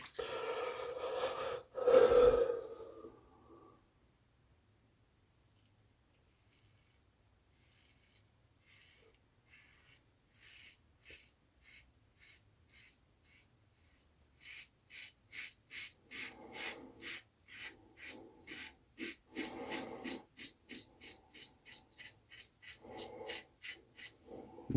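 A new safety razor scrapes through stubble in rapid, rhythmic rasping strokes, close and fairly quiet. A louder rustle comes first, then a long near-silent stretch before the steady shaving resumes.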